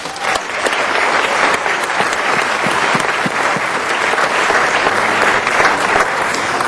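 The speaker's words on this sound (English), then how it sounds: "that's worth a round of applause" Loud, dense applause fills a Los Angeles city council meeting, steady and sustained throughout with many hands clapping at once and a faint crowd murmur underneath.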